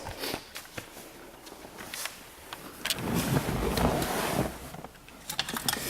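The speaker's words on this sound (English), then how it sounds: "nice strong F1 pump priming noise" The F1 hydraulic pump of a 2003 Ferrari 360 Spider primes with a low, swelling mechanical whir lasting a couple of seconds, set among faint clicks and handling noises inside the car.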